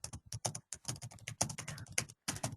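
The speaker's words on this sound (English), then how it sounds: "you type in your additional notes there" Rapid typing on a computer keyboard, a dense close run of clicking keystrokes with short pauses between bursts, with no speech.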